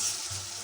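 Spice paste for a bottle gourd curry sizzles steadily in a pan, a close, continuous frying hiss at moderate loudness with no talk.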